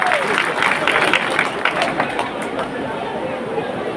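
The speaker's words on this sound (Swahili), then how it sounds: "Makofi kwa Joy Millers tafadhali." An audience at a public development event in Kerugoya claps for Joy Millers, a milling and food company, with dense applause and crowd chatter that fade slightly toward the end.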